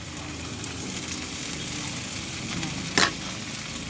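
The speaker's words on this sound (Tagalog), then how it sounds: "Gigisahin ko siya para kumapit yung pinaka amoy ng ating sibuyas bawang." Fried chicken is sautéed with onion and garlic in a pan, a steady close sizzle with stirring, and one sharp metallic clink near the end.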